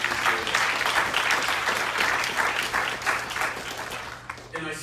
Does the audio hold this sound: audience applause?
yes